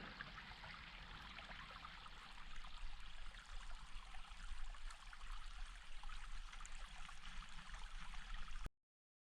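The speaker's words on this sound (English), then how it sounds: "You can maybe hear the water flowing there. That's the Dee coming down the Falls of Dee." The River Dee rushes down the Falls of Dee in the Cairngorm mountains, a steady faint hiss and gurgle of flowing water heard from some distance, continuous until it cuts off abruptly.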